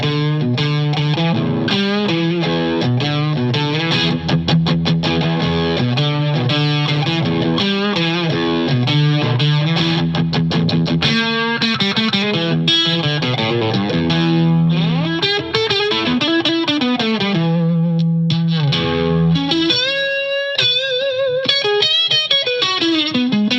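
Electric guitar played through an MXR Custom Badass '78 Distortion pedal with the Crunch switch on, giving a steady, saturated distorted tone across rock riffs and sustained chords, loud and close with no talking.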